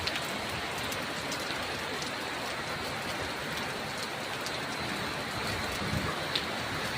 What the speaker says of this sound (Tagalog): Grabe na to, ulan pa, lakas pa ang hangin.